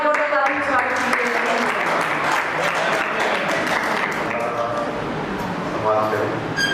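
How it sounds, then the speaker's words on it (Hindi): Loud audience applause welcoming someone at the Amar Kala Mahotsav cultural festival, a dense continuous roar of clapping with speech-like voices and tones threaded through it. "एक बार जोरदार तालियों से स्वागत कीजिए।"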